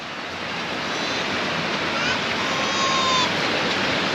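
Ocean surf at Warton Beach on the Western Australian coast, a loud continuous wash of breaking waves with some wind buffeting the microphone, steady and close with no clear pauses.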